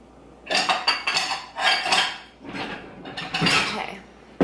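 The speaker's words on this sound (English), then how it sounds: "Put your dishes in the dishwasher, like a good member of the family always does." Dishes and cutlery clatter as they are loaded into a dishwasher: a few close bursts of clinking ceramic and rattling metal utensils, separated by short pauses, with no talk.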